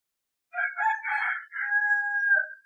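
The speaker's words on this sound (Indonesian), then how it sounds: "itu adalah suara ayam tetangga yang ada sedang bermain di belakang rumah" A neighbour's rooster crows behind the house, one long drawn-out cock-a-doodle-doo that ends on a sustained note, clear and moderately close with no voices.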